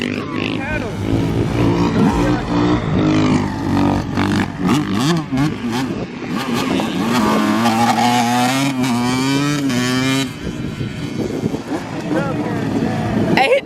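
A dirt bike engine revs up and down repeatedly at a dirt bike lot, its rising and falling whine loud and near, with people talking over it.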